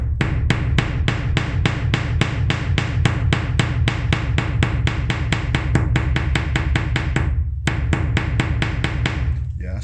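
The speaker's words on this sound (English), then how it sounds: "I'm just going to peen these over." Metal being peened over with a hammer on a cold day: a fast, steady run of close, ringing hammer blows, about four per second, with one short pause near the end.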